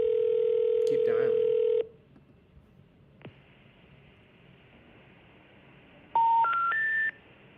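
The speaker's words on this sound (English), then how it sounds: "I can't talk in between these calls because they keep dialing." An automatic phone dialer places cold calls to property sellers: a steady electronic dialing tone stops, a quiet line hiss follows, then three short rising beeps sound in sequence.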